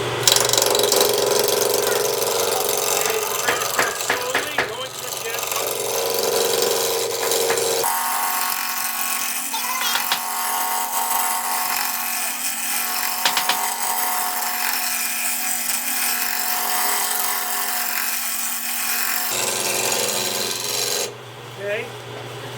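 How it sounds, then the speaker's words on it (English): Wood lathe spinning a workpiece while a gouge rounds it, a loud continuous rasping, chattering cut over a low motor drone, with an abrupt change in tone partway through as the cut shifts. "I'm going to take my gouge and I'm going to round it"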